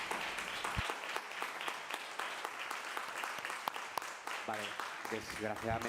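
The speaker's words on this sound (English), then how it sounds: "I was going to ask you a big round of applause. You got ahead of me." Audience clapping at a film press conference, steady applause with sharp individual claps standing out, as a voice begins speaking over it near the end.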